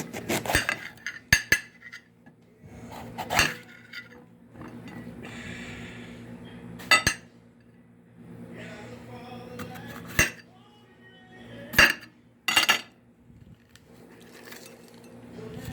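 Green pepper being cut and handled for Puerto Rican sofrito, with sharp knife and utensil clinks against a dish at irregular intervals over quiet kitchen background, no talking.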